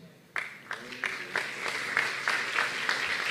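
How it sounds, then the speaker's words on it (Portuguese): A church congregation claps together in a steady rhythm, sharp claps landing about every third of a second and gradually growing louder and fuller. "Eu quero que você aplaude Deus pela vida do vosso pastor."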